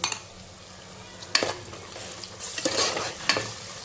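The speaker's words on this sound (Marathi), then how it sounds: "त्याला व्यवस्थित परतून घेऊया" Ginger garlic paste sautés with onion in a pan for chicken pulao, a low continuous sizzle broken by several close scraping strokes of a spatula stirring against the metal.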